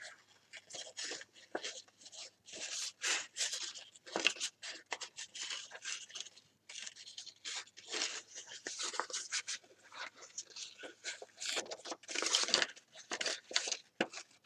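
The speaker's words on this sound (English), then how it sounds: "is that cutting noise annoying for you?" Close, crisp snips of scissors cutting paper in irregular bursts, with soft rustling as the paper is turned between cuts.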